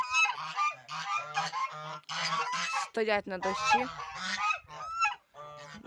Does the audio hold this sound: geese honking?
yes